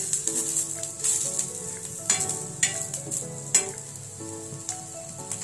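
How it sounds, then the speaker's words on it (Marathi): Green chillies roasting in a pan, for a toor bean amti, crackle and sizzle steadily up close while a spatula scrapes and tosses them in several sharp strokes. "अशा प्रकारे खूप छान अशा मिरच्या भाजून घेतलेल्या आहे"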